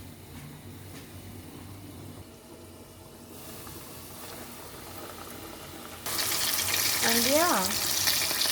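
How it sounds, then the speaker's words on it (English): BBQ-seasoned chicken pieces go into hot cooking oil. A low background hiss jumps abruptly into a loud, steady sizzle partway through, and a voice speaks briefly. "And then I'm going to add this to my oil."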